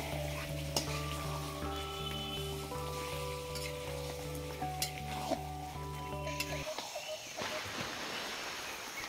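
Cloves and cardamom powder sizzle in a hot pan as they are stirred, a steady frying hiss over a low hum, with sharp scrapes of the spoon and a brighter crackle near the end.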